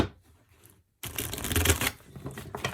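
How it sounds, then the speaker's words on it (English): A deck of tarot cards is riffle-shuffled up close, a soft papery flutter, then a brief pause before a second louder, denser burst of rapid card clicking. "I'm going to have to shuffle these a few times"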